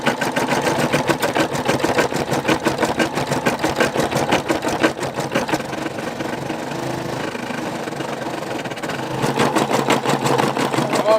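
An embroidery machine stitches a green satin fill on a patch, a steady rapid mechanical chatter that runs loud and continuous throughout with a brief softer stretch midway.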